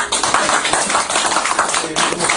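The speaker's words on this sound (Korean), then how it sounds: "우리 국회의원님한테 박수 한번 일단 쳐주겠습니다" Meeting-room audience clapping for a member of parliament at a neighbourhood aircraft-noise committee gathering: a dense, loud burst of many hands clapping together, sustained briefly and evenly without speech.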